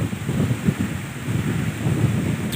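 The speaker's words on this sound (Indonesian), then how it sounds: "Kalian bisa mendengar sendiri ya, anginnya cukup kencang sekali." Strong wind blows along an outdoor road, a loud continuous gusting roar buffeting the microphone, with no talking.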